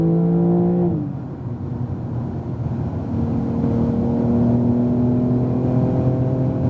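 Porsche 911 Turbo S on a racetrack, its engine tone dropping sharply as it lifts near one second, then climbing steadily and loud as it accelerates hard out of the corner, with no one talking.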